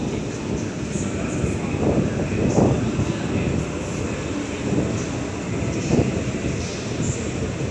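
A Sydney suburban train approaches platform 6 at Wynyard underground station, a continuous loud rumble and roar echoing in the enclosed space with faint rising swells, no voices over it.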